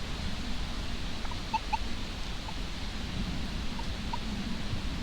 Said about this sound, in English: Get a bit of a chirp if I come up on the ID.